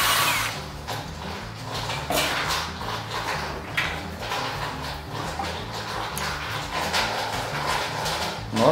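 An Einhell 18V brushless drill bores a hole, producing a moderately loud, uneven whirring with grinding surges and clicks, close by and without talk.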